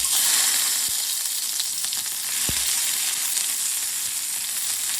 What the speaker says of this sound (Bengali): এবার আমি কালো জিরে দিয়ে দেবো